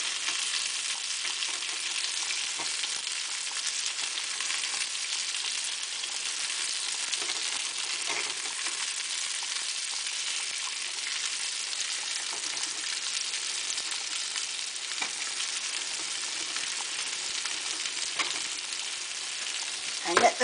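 Swedish meatballs, just turned over, sizzle and fry in a pan in a steady, continuous crackle with occasional small pops, close and alone without any voices.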